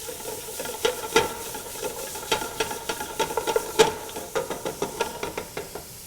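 Garlic and shallots cook in a pan for a smoky tomato and cannellini bean soup, a soft sizzle running underneath while a utensil scrapes and taps against the pan in irregular, close strokes.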